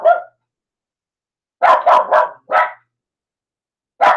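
Dog barking nearby in a series of loud, sharp barks: one at the start, a quick burst of four after a pause, then another at the end, with silence between them.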